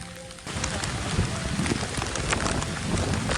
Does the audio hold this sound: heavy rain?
yes